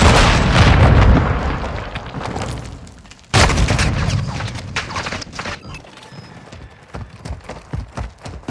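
Grenades explode in Call of Duty Modern Warfare 2 during a team deathmatch, with a heavy blast rolling off, then a second sharp boom followed by scattered gunfire and debris.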